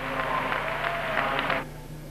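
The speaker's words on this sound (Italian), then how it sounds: "il pubblico applaude molto forte" Loud audience applause fills the hall at a 1994 ITKF world karate competition, a dense sustained clatter of clapping that cuts off sharply near the end, leaving a low hum.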